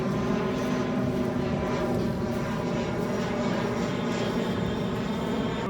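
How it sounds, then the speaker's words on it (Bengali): Steady, continuous drone of an airplane engine passing overhead at a beach in Cox's Bazar, a broad rumble holding at an even level throughout with no talking. "সামনে দেখতে পরে দেখতে পাচ্ছেন অনেক সুন্দর বিমান যাচ্ছে"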